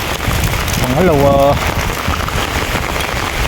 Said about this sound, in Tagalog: Agad na, umuulan na